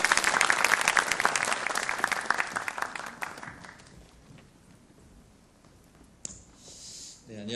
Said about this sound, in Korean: 우리 박수로 박동환 장로님 앞으로 모시도록 하겠습니다